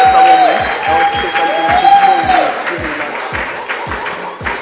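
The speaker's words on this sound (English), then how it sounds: "Let's give her a round of applause, ladies and gentlemen" Audience clapping at a gala awards dinner, a dense, steady round of applause with regular low thumps and a whistling tone early on, tapering slightly toward the end.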